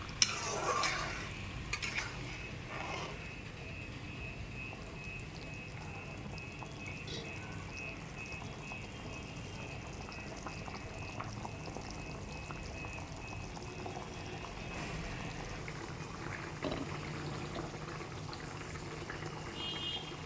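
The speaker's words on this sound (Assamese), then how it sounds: "আঞ্জাখন উতলিবলৈ দিয়ক।" Assamese fish curry with gooseberry simmers in a pot, giving a faint, steady bubbling hiss with occasional soft clinks of a spoon, quiet and close with no talking.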